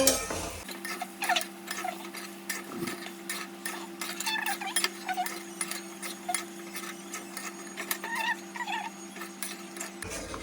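Spices being stirred into a masala while cooking, a spoon scraping and clinking in a pan in irregular bursts over a steady low hum, close and fairly loud, with no talking.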